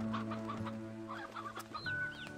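Chickens cluck and murmur on a farm in the video game Slime Rancher 2, several short close calls over a steady tonal game hum, with no talking.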